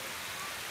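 Steady rain falls outdoors, a dense, even hiss with no break and no voices over it.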